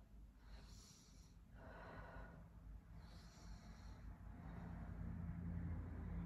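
Deep yoga breathing during a beginner session: three slow, soft breath cycles close by, each a long airy whoosh with brief pauses between, and no talking.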